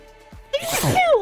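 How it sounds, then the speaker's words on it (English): A character in the video game Backpack Battles lets out a single sharp sneeze, a quick inhale followed by a loud burst, clear and alone without talking. "Why sneezing? I didn't want the sneezing."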